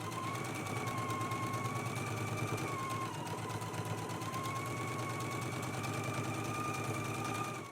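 Sewing machine stitching the side seams of a girls' and misses' dress, a continuous rapid mechanical whir with a steady pulsing rhythm, close and alone.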